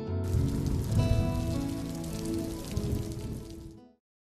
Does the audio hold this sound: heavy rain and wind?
yes